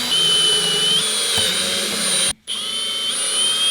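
A power drill bores through blue masking tape on a King Tour Pack luggage rack, a steady high-pitched whine running up close with a brief cutoff midway before spinning up again.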